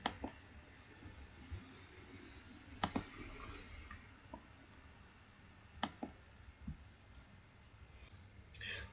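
A computer mouse clicks a few times, sharp isolated ticks spaced several seconds apart over a quiet room background.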